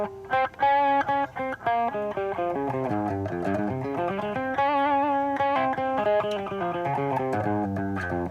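Distorted electric guitar solo running an Asian-flavoured pentatonic scale, with quick, dense melodic runs of bright harmonic-rich notes played loud and close, without talk.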